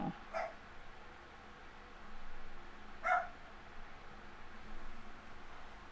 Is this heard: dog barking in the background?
yes